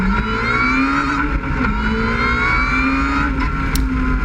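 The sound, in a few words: Ariel Atom 3 accelerating, supercharger and intake whine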